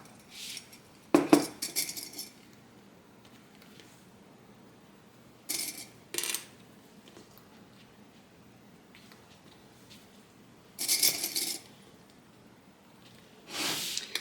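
Small sewing clips are snapped onto piping cording on fabric, giving a few brief clicky rustling bursts spaced apart by quiet pauses, close and without talk.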